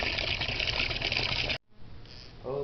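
Water gushes steadily while sand is rinsed out for an aquarium tank, a loud continuous rush that cuts off abruptly, followed by quieter trickling and a faint sound.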